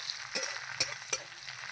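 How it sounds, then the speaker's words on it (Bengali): Onions frying in a pan, giving a soft, quiet sizzle broken by three brief clicks or scrapes of a utensil, with no voices. "পেঁয়াজটা আমি একটু ভেজে নেব"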